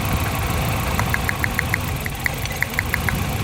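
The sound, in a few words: Nissan Silvia S13 CA18DET engine idling with misfire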